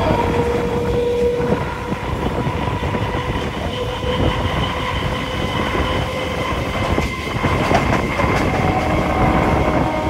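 Inside a moving passenger train on a journey from Kolkata to Agartala, a continuous heavy rumble of wheels and carriage fills the space, with faint rhythmic clacks and a thin, drawn-out metallic squeal. No one speaks.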